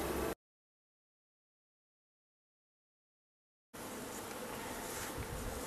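Honeybees buzz steadily during a hive inspection, a dense continuous drone close by that cuts in after a long stretch of silence and holds without a break.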